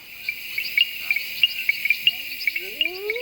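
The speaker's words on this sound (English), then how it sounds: "Bell frogs create a cacophony of sound." Bell frogs call at night in the Botswana wild: a chorus of short, bright, bell-like pings repeating in an irregular rhythm over a constant high insect drone, with a faint rising call near the end.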